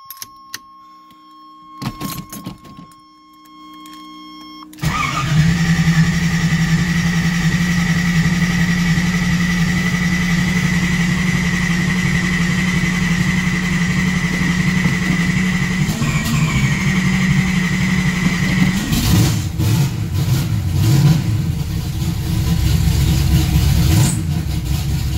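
Third-generation Camaro V8 fitted with DNA headers cranks over, fires up and settles into a loud, rumbling idle, then revs hard near the end, close to the car.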